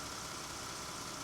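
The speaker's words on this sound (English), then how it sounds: "Listen how smooth this engine is running." A Ford EcoBoost truck engine idles after a spark plug replacement, giving a faint, even, steady hum with no talking.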